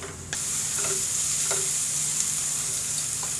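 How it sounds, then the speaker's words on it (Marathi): Sliced onions fry in a pan until golden, giving a steady, close, bright sizzle from start to end with a few soft stirring taps. A brief quieter moment comes at the very start. "हा कांदा जो आहे आपल्याला छान असा सोनेरी रंग येईपर्यंत तळून घ्यायचा आहे"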